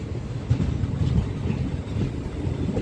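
Low rolling rumble of the Guntur–Rayagada Express pulling away from Mangalagiri station, with soft rhythmic thumps of wheels and carriages, steady and moderately quiet, and no voices.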